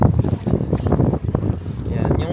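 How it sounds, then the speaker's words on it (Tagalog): Gusty wind buffets the microphone beside a lake, a steady broadband rush with rumbling low gusts throughout, and a faint voice underneath. "Medyo mahangin siya."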